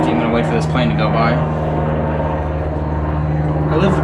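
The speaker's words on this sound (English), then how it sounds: "I'm gonna wait for this plane to go by." Small propeller airplane passing overhead near a private airport, a steady droning engine hum holding through the whole stretch, fairly loud and close, with people talking over it.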